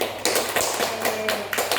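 Hands clapping in a group guidance session, several quick claps with a steady rhythm, close and fairly loud, with no voices over them.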